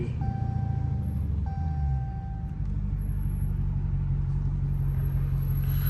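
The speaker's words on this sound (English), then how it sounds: "y'all hear these downshifts. These crazy ass downshifts." Straight-piped Dodge SRT Hellcat V8 rumbling loud and close throughout, its deep exhaust note dipping briefly as the engine downshifts before resuming a steady heavy drone.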